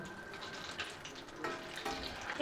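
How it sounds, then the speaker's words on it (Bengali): Paneer pakoras deep-frying in hot oil and being turned over: a faint, steady sizzle with soft bursts of bubbling and small stirring sounds, close by. "এইভাবে এপিট ওপিট করে ভালোভাবে একদম পনির পকোড়াটাকে ভেজে নিব"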